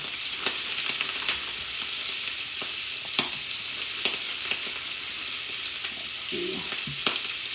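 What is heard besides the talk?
pre-cooked cocktail shrimp sautéing in a pan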